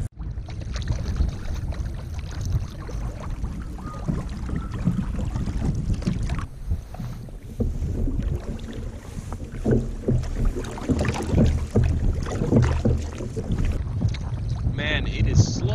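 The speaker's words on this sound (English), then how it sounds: "it is slow going when you're paddling straight into the wind and you're trolling" Canoe paddled into a headwind while trolling on a wilderness lake, with steady wind buffeting the microphone and low rumbling water noise throughout, paddle strokes blurred into the gusty background.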